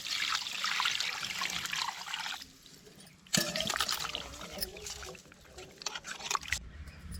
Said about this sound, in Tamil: மீனை பார்த்திங்கன்னா உப்பும் மஞ்சள் தூளும் போட்டு வாஷ் பண்ண போகிறோம்